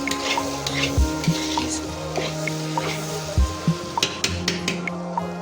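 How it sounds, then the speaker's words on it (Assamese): Oil sizzles steadily as food fries in a pan, broken by several sharp knocks and clinks of a utensil against the pan. "আলুটো ধুনীয়াকৈ মই তেল সৰহকৈ দি ফ্ৰাই কৰিলে ন খাবলৈ খুব টেষ্ট হয়"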